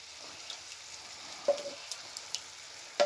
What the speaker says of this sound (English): now Kezia will add 1 400-gram tin of chopped tomatoes to the pan